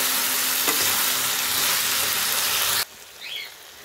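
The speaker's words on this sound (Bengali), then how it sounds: "এবার ভালো করে নাড়াচাড়া করে একদম ভেজে নেব।" Pasta fried in a pan with garlic and stirred, a loud dense sizzle with a few scraping knocks that drops off abruptly near the end, leaving a faint chirp; no voices.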